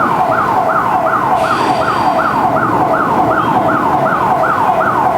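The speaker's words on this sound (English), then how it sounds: "A lot of car alarms going off today." A wailing electronic alarm from outside cycles rapidly and evenly, sweeping up and down again and again, steady and fairly loud over a constant low background hum.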